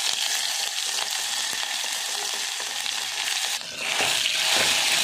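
Mustard seeds, cumin, curry leaves and ginger-garlic fry in hot oil in a pot, making a loud, continuous close sizzle with crackling and faint stirring scrapes.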